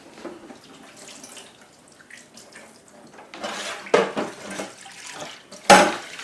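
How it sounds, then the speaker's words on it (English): A beard is rinsed under a running kitchen tap, with water trickling softly at first, then louder splashing bursts near the end, close and without talk. "let me just rinse off my beard"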